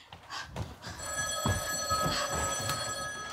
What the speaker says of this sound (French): Oh, shit, c'est le téléphone.